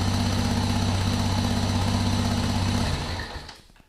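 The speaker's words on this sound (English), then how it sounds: "Starts the bike up." Motorcycle running on a Noco NLP9 lithium battery: a steady, loud mid-pitched engine drone at idle for about three seconds, then cutting off and fading away.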